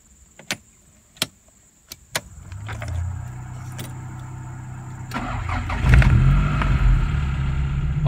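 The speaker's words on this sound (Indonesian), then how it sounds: "Langsung aja kita nyalakan dengan memutar kunci sampai nyala." Several sharp clicks precede the key turn, then a manual car's starter cranks and the engine catches, settling into a steady idle that grows louder after a few seconds; no speech.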